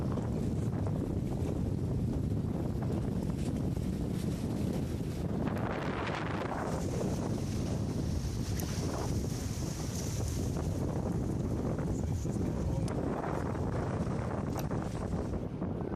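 Strong storm wind on Gambier Island buffets the microphone with steady loud roaring gusts, mixed with water and boat noise as a larger boat struggles toward its mooring.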